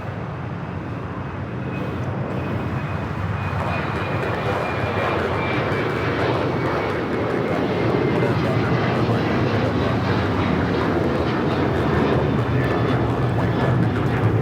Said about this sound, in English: Eva Air Flight 5 taking off to Taipei on the